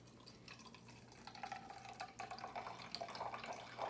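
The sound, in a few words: pouring apple cider vinegar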